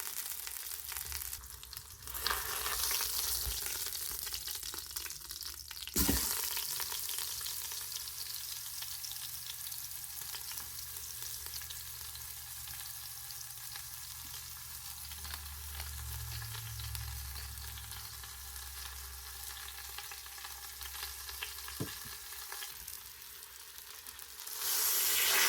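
Beef sears in a hot pan for Italian beef sandwiches, giving a continuous, even sizzle and hiss that holds steady for the whole stretch, with no talking over it.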